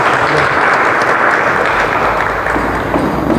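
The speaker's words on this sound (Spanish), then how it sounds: "Le regalamos un fuerte aplauso." A parish audience at a theology class gives a welcoming round of applause, a loud, dense, continuous wash of clapping that fills the whole stretch without pause.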